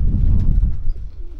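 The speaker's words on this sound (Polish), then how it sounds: "te gołębie są podzielone wszystkie tutaj?" Pigeons coo in a breeding loft where the birds are housed and sorted, giving a steady murmur of soft, low cooing throughout, close by and fairly loud, with no talking.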